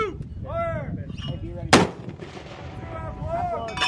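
A marine artillery gun fires a single round during a training exercise at the Yausubetsu training area, making one sharp, loud blast midway that stands out between radio-style voices before and after.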